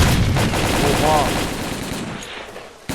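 Rapid gunfire from the video game S.T.A.L.K.E.R. Call of Pripyat bursts loudly at first, then fades out over a couple of seconds before a sharp new shot cuts in at the end.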